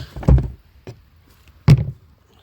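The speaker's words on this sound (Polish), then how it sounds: "Otwieram bramę" A farm gate being opened by hand gives a few loud metallic clanks and thuds: one cluster early, a small knock, then a last heavy clunk, close by and with no talk.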